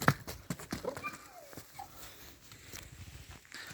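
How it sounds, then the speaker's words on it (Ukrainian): Young filly Frida walks with a run of clip-clopping hooves, sharp repeated knocks in an uneven rhythm close by, with faint background noise and occasional softer sounds between steps. "Лошечка Фріда. Дивіться, як це гарно гуляє."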